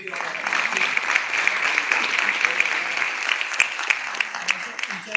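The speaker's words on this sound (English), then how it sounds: "huge round of applause" An audience at a startup networking event in Pune claps loudly and continuously for about five seconds, a thick, even roar of many hands with a few sharper claps standing out.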